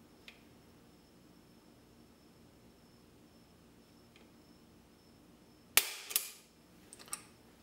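Hammer of a USP pistol falling on a double-action trigger pull, a single sharp dry click heard close in a quiet room, followed by a couple of fainter mechanical clicks.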